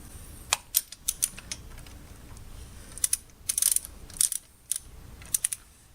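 A torque wrench set to 76 foot-pounds clicks in quick, sharp bursts while lug nuts are cinched down on a Toyota RAV4, the ratchet clatter close and crisp over quiet background.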